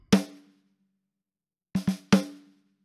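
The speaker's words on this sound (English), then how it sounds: "Snare top soloed." A snare drum from the GGD P4 drum library, heard through its top microphone alone, cracks once sharply, then after a pause plays a quick flam-like double stroke and a final hit. Each stroke rings with a short, bright body tone.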